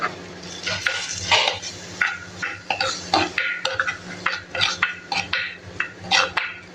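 Crushed onion and small chillies being stirred in a pan, with repeated scraping and clinking of a metal spoon against the pan in an uneven rhythm, close and fairly loud, over a faint sizzle.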